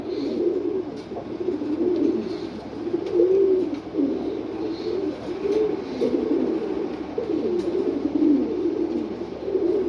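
Racing pigeons coo steadily in low, rolling calls that repeat throughout, with soft background noise and no talking.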